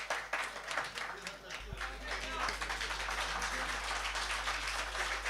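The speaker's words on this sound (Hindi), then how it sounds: "तो जोरदार तालियों में इस्तकबाल कीजिए मोहतरम सतलज राहत का" Applause from a mushaira and kavi sammelan audience welcoming a poet on stage at Badshah Market, Jaora, a steady dense clapping that fills the whole stretch, swelling slightly after the first second and holding strong.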